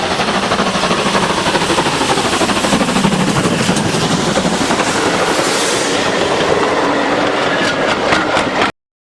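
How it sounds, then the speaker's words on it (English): Pannier tank steam locomotive 9466 working on the West Somerset Railway, a loud, continuous, close rush of rolling wheels and rhythmic clatter that holds steady before cutting off abruptly. "Rounding off the tanks is the one and only Pannier. 9466 on the West Somerset later that month."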